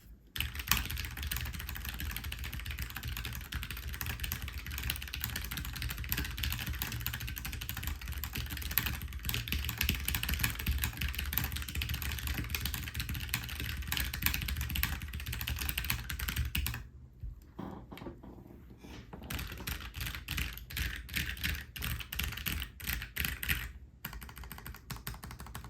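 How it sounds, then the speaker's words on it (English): Steady, rapid typing on a low-profile computer keyboard gives a dense stream of light clicks and clacks for about seventeen seconds, then breaks off briefly before quieter typing resumes. "let's do a quick typing test"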